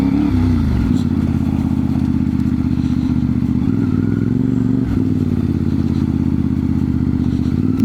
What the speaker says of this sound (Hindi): ये देखें ये मोटरवे है